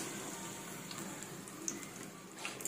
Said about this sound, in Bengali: ভেজে ফেলতে হবে উল্টানোটাই ঝামেলা